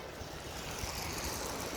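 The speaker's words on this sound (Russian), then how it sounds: "Очень ветрено" Strong wind in Khiva, Uzbekistan buffets and roars steadily, close and noisy, with a rough rumbling texture and no voices.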